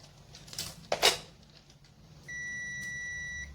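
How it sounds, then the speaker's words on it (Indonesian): A multimeter set to the buzzer range on the ohm scale gives a steady electronic beep for about a second, after a couple of brief clicks while it is calibrated for testing a fuse in a Sanyo Aqua LE24S8000 LED TV. "Kita akan kalibrasi ohm ya, dengan menggunakan skala buzzer"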